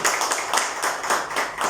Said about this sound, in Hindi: आपकी तालियों की गूंज मणिपुर तक पहुँचनी चाहिए